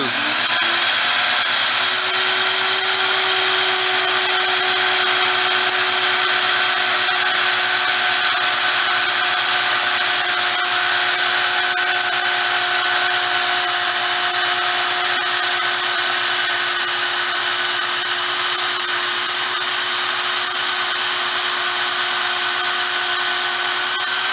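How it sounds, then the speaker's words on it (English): Router with a 1/8 inch bit cutting 5/16 inch deep slots for the turns of a slot car track, a loud, continuous high-pitched whine held steady throughout with no talking. "we're routing both of them at one time"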